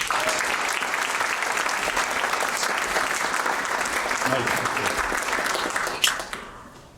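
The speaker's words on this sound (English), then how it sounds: "Let's give them an opening round of applause." A university public debate audience bursts into sustained, dense applause that holds steady for several seconds, then tapers off and fades near the end.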